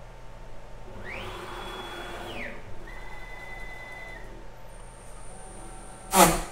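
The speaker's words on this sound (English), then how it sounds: "I'm going to take this time to vacuum everything off" A vacuum cleaner hums steadily while dust is cleaned off a CNC machine, with fainter machine whines rising and falling over the drone and a sharp clack near the end.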